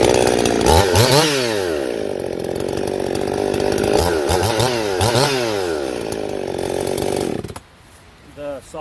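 A Husqvarna 55 chainsaw with a modified muffler cuts into wood, its engine loud and close, repeatedly bogging and revving as it bites through the cuts before dropping to a sputtering idle.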